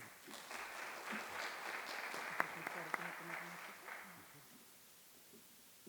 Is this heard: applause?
yes